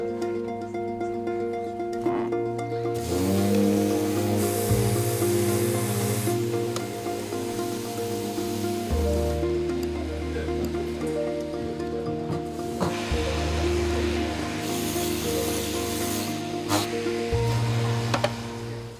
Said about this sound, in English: I need to give it a really good sand.